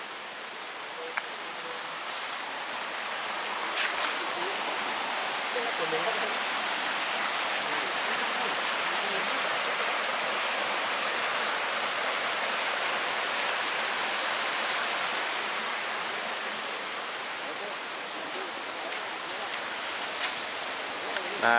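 Steady, broad rushing of flowing water from the Bayanan river in rural Desa Jambeyan, continuous and fairly loud throughout with faint scattered ticks.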